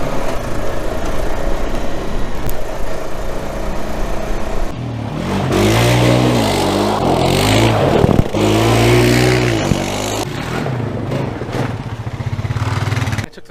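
A four-wheeler engine runs close by on a snowy farm ride. It holds a steady idle, then revs and drops in pitch over and over through the middle of the clip, all of it loud and with no talking.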